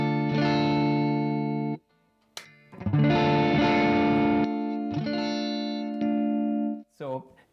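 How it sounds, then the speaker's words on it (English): Les Paul electric guitar on the neck pickup, coil-split to single-coil, plays sustained clean chords in several separate bursts, each ringing before stopping, with a brief pause and short sounds between them. "this is kind of a single coil from the Les Paul on the neck position, but in split mode"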